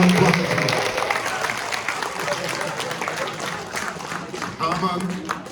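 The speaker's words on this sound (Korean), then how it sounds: "우리 건강하고 박수 한번 더 보내주시면 고맙겠습니다." Audience applause fills a large auditorium at a constitutional reform debate, a steady dense wash of clapping mixed with crowd murmur and some voices throughout.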